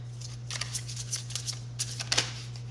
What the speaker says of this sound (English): I'm going to shuffle the cards, okay?